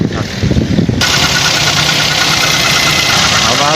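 A Nissan Dayz engine idles with an abnormal noise, a steady close mid-pitched running hum with a faint rhythmic knock. Brief speech-like sound opens it, then the engine carries on alone.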